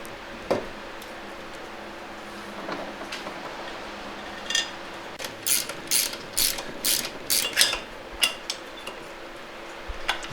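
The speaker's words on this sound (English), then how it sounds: "Then torque all the bolts to spec." A ratchet tightening the transmission pan bolts on a 4L60E / 700R4 during a rebuild gives a few isolated clicks, then a close, dense series of sharp ratcheting bursts in the second half, with no voices.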